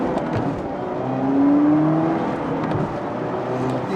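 A 2019 Camaro engine holds a steady high rev around 4,000 to 5,000 rpm, with a brief rising whine in the middle during the 1-2 gear shift, then settles back.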